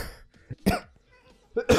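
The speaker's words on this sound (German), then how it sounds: "Ah, ich gehe noch sterben irgendwann durch den Husten." A player character in a Minecraft Agrarian Skies modpack game coughs in several sharp, close bursts separated by short pauses, with a brief throat-clearing sound.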